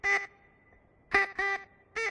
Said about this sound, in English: It's a bird call. It's a duck!